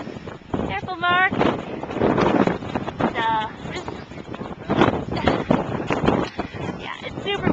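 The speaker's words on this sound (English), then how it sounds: "it's super windy up here" Strong wind at a high lookout in Capitol Reef National Park buffets the microphone in loud, rumbling gusts throughout, with people talking over it.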